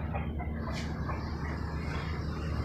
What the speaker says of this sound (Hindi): ये हैं वो मुर्गियाँ।